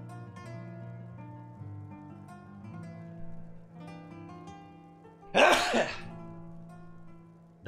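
One sharp, loud sneeze bursts out once over quiet background music, followed by a brief clatter at the very end.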